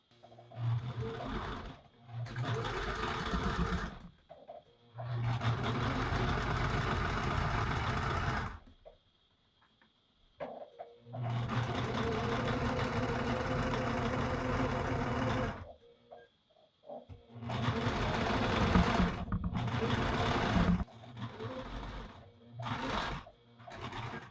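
A sewing machine whirs in several bursts of steady stitching a seam down to a front dart point, some short and some lasting a few seconds, with quiet gaps between runs.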